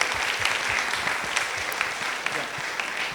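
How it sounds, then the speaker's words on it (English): Delegates at an expert medical panel discussion on childhood asthma give the panelists a round of applause, steady and fairly dense clapping throughout, with individual claps audible close by. "May I request the delegates to give a round of applause to our panelists"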